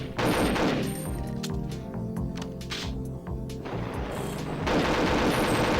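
Rapid machine-gun fire and dense volleys at the firing range in the video game Perfect Dark, loud and continuous with a short lull midway before the shooting picks up again.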